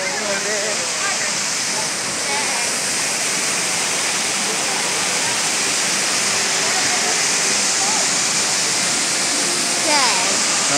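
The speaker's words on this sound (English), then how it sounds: "Look, water coming out of his mouth over there." Water pouring from a fountain at Universal Studios, where a figure's mouth spouts a stream: a loud, continuous rushing splash close by, with voices faintly audible beneath it.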